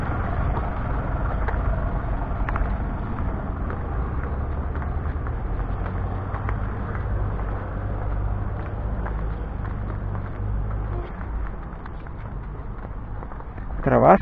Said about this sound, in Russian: Фу, как-то шум от этих машин.